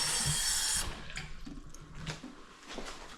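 Water pours into a pot to start melting chocolate, a loud gushing rush for under a second, then clattering handling sounds and faint drips at close range.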